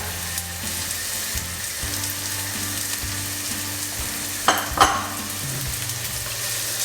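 Chilli softening in olive oil in a pan makes a steady, close sizzle, with a couple of sharper stirring clatters near the end and no voices.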